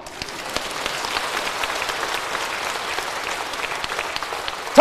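A church congregation applauds steadily during a revival sermon, dense clapping that holds at an even level throughout.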